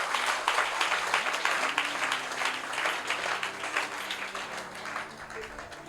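A church congregation at a Christian worship service applauds to acclaim God, with sustained dense clapping mixed with voices across the whole stretch, loud and crowded.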